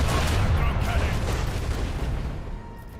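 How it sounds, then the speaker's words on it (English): Heavy booming cannon fire from macro cannons in Warhammer 40000: Rogue Trader, a dense rumbling barrage of blasts that stays loud and gradually fades, with no talk over it. "Show them the fury of macro cannons."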